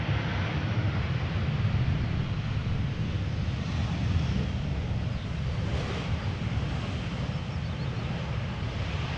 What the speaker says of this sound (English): Now the Lufthansa Airbus keeping up the speed.